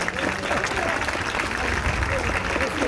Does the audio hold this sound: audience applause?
yes